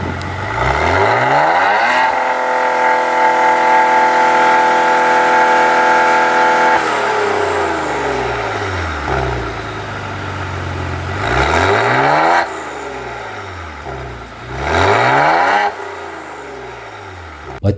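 A Maserati Ghibli S Q4 revs its exhaust repeatedly, a loud, close burst that holds a high steady note, then several sharp rises and drops in pitch, with no talking.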